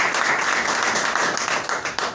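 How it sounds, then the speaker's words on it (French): An audience at a demonstration of SuperbKlean sanitary pads and panty liners breaks into brisk, dense clapping that fills the room steadily for a couple of seconds, with no speech over it. "Est-ce qu'on peut acclamer pour ça?"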